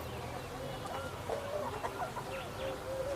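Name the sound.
large Kenbro rooster clucking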